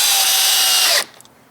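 A power drill whirs steadily for about a second as it drives a screw into pallet wood, then cuts off, leaving a couple of faint clicks.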